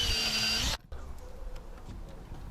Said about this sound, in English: double check before drilling the pilot holes and then the larger holes